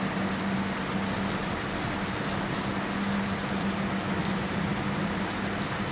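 Rain starts falling again, a dense, even hiss of drops that holds steady and close throughout with no voices.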